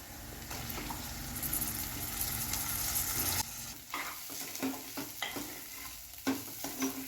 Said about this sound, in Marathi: त्याला आता आपण परतून घेऊया आता आपण यामध्ये हे भिजवून घेतलेले तांदूळ टाकणार आहोत